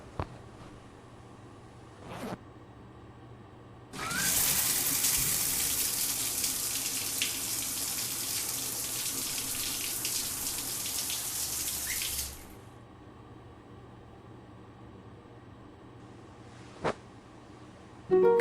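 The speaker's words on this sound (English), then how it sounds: "please take a shower." Shower water runs in a steady hiss for about eight seconds, starting and stopping abruptly, with brief clunks before and after and no talk.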